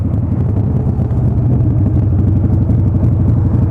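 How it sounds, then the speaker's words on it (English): A motorcycle engine on a new bike idles too fast and loud up close, as if the choke is stuck out, a steady rapid throbbing rumble with no voices. "this bike is just idling way too high"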